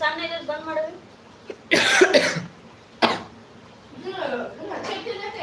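A person coughs in a few hard bursts during a live stream, with a voice talking before and after the coughs.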